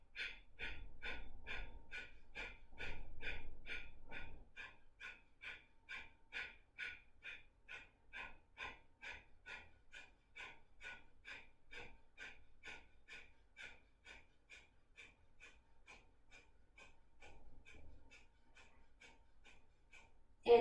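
Breath of fire yoga breathing: rapid, rhythmic nasal exhales pulse steadily for twenty seconds, close and soft, with a few heavier breaths at the start.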